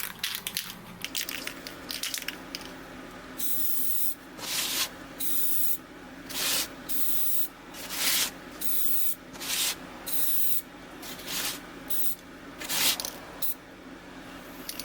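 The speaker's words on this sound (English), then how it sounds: "now I'm going to hit it with some white gloss paint to get a nice base going" White gloss spray paint hisses onto a homemade surfcasting fishing lure in about a dozen short, loud, close bursts separated by brief pauses.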